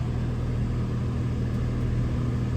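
A Ram ProMaster van's engine idles steadily with a low, even rumble as it is put in gear to reverse, close by and continuous with no talk.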